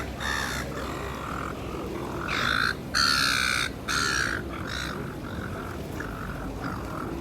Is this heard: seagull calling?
yes